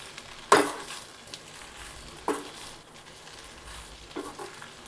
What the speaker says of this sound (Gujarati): હવે તેને પણ આપણે પાસ્તાની સાથે સારી રીતે મિક્સ કરી દઈએ.